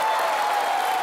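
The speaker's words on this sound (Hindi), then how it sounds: "इनके लिए जोरदार तालियां" Studio audience applause at a TV comedy show, a dense steady burst of clapping from a crowd, loud and close, filling the brief moment without speech.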